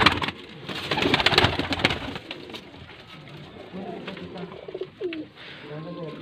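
Pigeons at a breeder's setup in Faisalabad give low, repeated coos, close by, with a louder rustling, busy stretch at the start giving way to quieter calls and brief sweeping tones.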